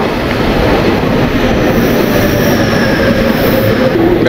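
A train passes at a Tokyo station with a steady, loud rumble of wheels on rails and faint squeal tones, continuous and close with no talking.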